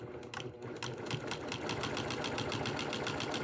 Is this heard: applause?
no